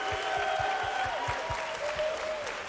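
A conference audience claps loudly and continuously with a steady rhythm of hand claps, while a voice speaks over it.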